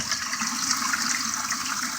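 Water gushes steadily out of a rain barrel, a continuous hissing, splashing flow heard close and alone for the whole stretch.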